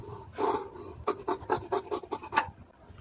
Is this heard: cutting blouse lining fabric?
yes